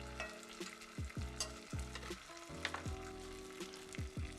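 Butter melting and sizzling in a pan while a utensil scrapes and taps against it in a quick irregular rhythm, close and fairly quiet, no voices.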